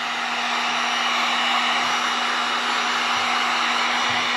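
A hair dryer blows steadily and loudly, drying an alcohol-based patch just applied to skin; the continuous whooshing roar with a constant motor hum runs throughout, with no talking.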